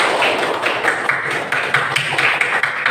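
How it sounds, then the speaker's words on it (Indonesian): Children clap their hands repeatedly in a fast, steady run during a classroom unplugged activity, a dense stream of close, even claps with no pause. "Tepuk berkali-kali."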